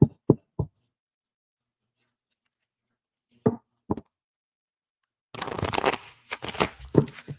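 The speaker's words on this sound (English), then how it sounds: "Let me shuffle." A few soft taps, a pause, then cards riffled and shuffled up close in quick, crisp bursts.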